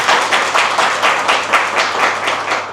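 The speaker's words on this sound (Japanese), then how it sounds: "関本さんに拍手をお願いします。" An audience at an architecture talk breaks into brisk, dense applause, many hands clapping together at close range without pause.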